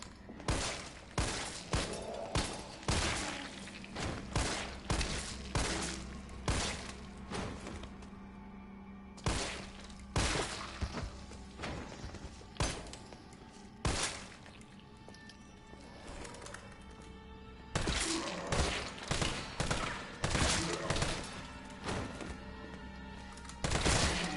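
Repeated gunshots and a flashbang pop against zombies in Resident Evil 3, firing in uneven bursts and single cracks across the whole stretch, loud and close, with short pauses between volleys.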